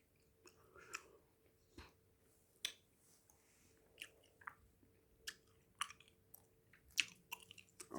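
Hubba Bubba Max bubble gum in strawberry and watermelon flavours being chewed close up, with soft wet smacks and occasional sharper clicks in an irregular rhythm, quiet and without talking.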